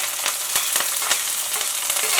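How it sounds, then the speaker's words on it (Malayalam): Crushed shallots, green chillies and curry leaves hit hot coconut oil in a seasoned cheenichatti for brinjal mezhukkupuratti, producing a loud, dense, continuous crackling sizzle with quick popping bursts and no talk. "ഇവിടെ കറിവേപ്പില ഇട്ടപ്പോൾ അത്ര സൗണ്ട് വന്നു."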